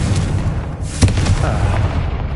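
A Confringo blast spell goes off in Hogwarts Legacy, a single sharp booming burst near the middle that thuds over a low rumbling background.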